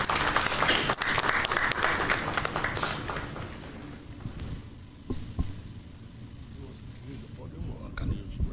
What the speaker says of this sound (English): Please, with a round of applause, help me welcome him.